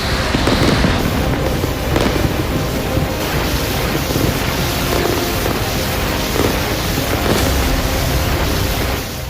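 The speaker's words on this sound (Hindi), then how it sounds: "उसके बाद सिलसिलेवार धमाके शुरू हो गए।" A series of explosions at the Russian Makiivka rocket depot after a Ukrainian drone strike: dense continuous crackling and booming at night, loud and roughly textured with wind-like rumble, no voices.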